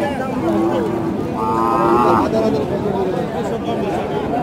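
Cattle low at a busy rural livestock market selling local cows and heifers in Rajshahi, one drawn-out moo rising briefly over a constant babble of people talking nearby.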